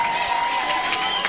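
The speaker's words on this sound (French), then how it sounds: "si nous pouvons applaudir" Audience clapping at a school science day in Mpasa, N'sele, a steady wash of applause with crowd noise throughout.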